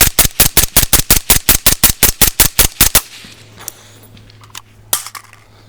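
A suppressed .22 firearm fires a rapid string of about fifteen evenly spaced, sharp reports over three seconds, close and loud, then stops, leaving quiet rustling and a few faint clicks.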